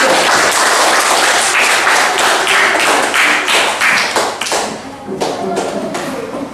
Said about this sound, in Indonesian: kita beri tepuk tangan kepada kelompok yang bersangkutan